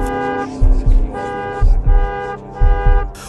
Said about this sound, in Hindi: इस बार भी उसकी कोई हेडलाइट नहीं चल रही थी, लेकिन आते ही कार ने जोर से हॉर्न दिया।